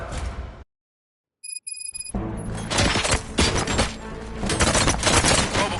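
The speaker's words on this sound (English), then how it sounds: "Gunshots? What's going on?" Gunfire in the Robocop Rogue video game bursts out loudly after a moment of silence and a few electronic tones, a dense, sustained barrage of shots and impacts.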